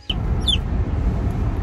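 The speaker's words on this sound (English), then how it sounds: "We just got our last baby chicken at the store, and she is just screaming in the box." A baby chick in a box gives a few short, high peeping chirps in the first half, set against a loud, low rumbling background noise.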